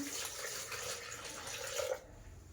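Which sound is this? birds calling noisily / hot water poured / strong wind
hot water poured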